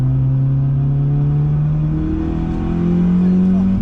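A car accelerates on a race track, its engine droning loud and close from inside as the pitch climbs steadily, then shifts and rises again.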